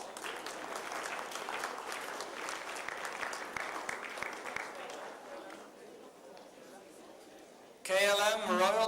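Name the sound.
applause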